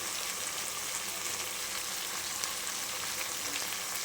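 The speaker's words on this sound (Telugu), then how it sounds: "అల్లం పేస్ట్ వేసి అది కూడా బాగా ఫ్రై అవ్వాలి." Ginger paste frying with onions in hot oil in a pan for a fish curry, giving a steady, dense sizzle that holds even and close throughout with no talking.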